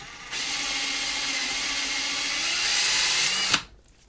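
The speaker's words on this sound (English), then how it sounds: "you just take some 120 grit sandpaper. And this is one way, just put it on the drill" Power drill fitted with 120 grit sandpaper sanding down a wooden piece, one continuous whirring grind lasting several seconds that swells slightly near the end and then stops abruptly.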